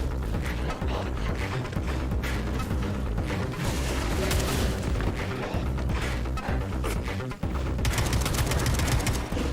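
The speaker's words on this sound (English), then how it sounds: "Alright, the AK is gonna get whipped out here." AK rifle fire in Atomic Heart rattles out in rapid, loud bursts of shots with mechanical clatter, continuous across the stretch with a brief pause, over a busy game background.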